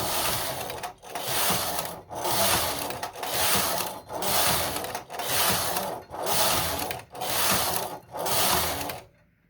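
A Singer knitting machine carriage slides back and forth knitting tuck stitch rows, nine steady rubbing, ratcheting passes in a regular rhythm with short gaps between them, close and loud, with no talk.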